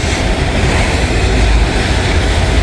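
A long CSX freight train rolls past near Vandalia, Ohio, making a loud, continuous close rumble of wheels and cars with no let-up and no voices.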